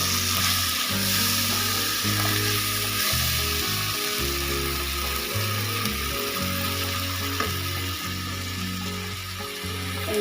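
Ginger and garlic paste fries in oil for a tadka gravy with mixed egg and chicken, making a loud, continuous close sizzle broken by a few stirs.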